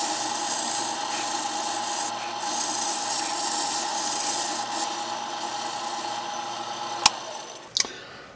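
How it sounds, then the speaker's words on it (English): Steady abrasive rubbing and rasping against a spinning brass hammer workpiece on a lathe at about 600 to 800 RPM, a continuous hiss that runs evenly before two brief sharp clicks near the end. "run this at a slower speed, around 600 to 800 RPM for sanding"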